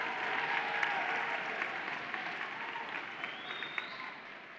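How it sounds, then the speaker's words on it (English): An audience claps for the organizing committee at an awards ceremony, a fairly quiet, even wash of applause that slowly fades, with no talk on top. "Can we give one massive round of applause for the organizing committee who's spent so much hard work here"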